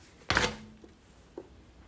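A knife cuts through nutty baklava in a pan, giving one sharp, crisp thunk as the blade strikes through, followed by a couple of faint light taps in an otherwise quiet space.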